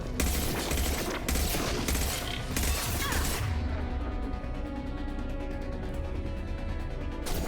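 Turret gunfire in Mass Effect 2, a dense rapid barrage of loud blasts for about three seconds, then a lingering mechanical hum and rumble as the firing drops away.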